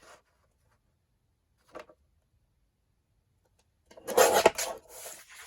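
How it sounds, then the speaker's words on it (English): A paper strip for a mini journal is cut, with a faint scrape early on and then a short burst of close rustling and cutting near the end. "Okay, so I'm going to cut this strip."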